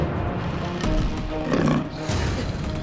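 A tiger roars in a loud, rough burst that repeats in deep growling waves. It is heard up close against a noisy background.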